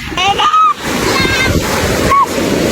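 Sea waves wash onto a beach in a steady, broad surf roar that runs the whole time beneath loud, excited voices close to the microphone.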